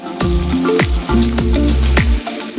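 Hot oil frying for Jamaican baked dumplings, a loud, close sizzle that runs without a break while a few hollow knocks and scrapes from the pot repeat over it. No one speaks.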